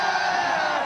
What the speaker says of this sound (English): Wait, the crowd is yelling.